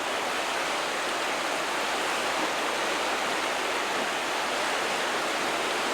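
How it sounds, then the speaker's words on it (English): Steady, dense roar of whitewater at Martin Rapids, a class 3 rapid on the McKenzie River. The sound is loud and unbroken, with no voices. "This is Martin Rapids that we just came through"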